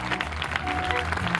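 Applause from a crowd after a live band performance, steady clapping filling the short stretch with music or voices faintly underneath.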